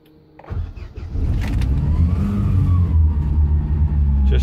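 A boat engine starting from cold: a brief cranking whirr, then the motor catches and settles into a loud, steady low rumble that runs close by to the end.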